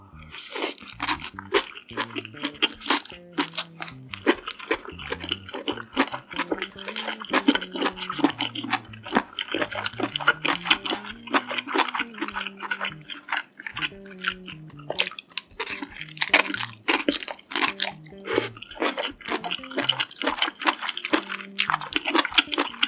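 Close, crisp crunching and chewing of king oyster mushroom eaten with jjajang sauce, the bites and chews repeating steadily in a quiet setting with no talking.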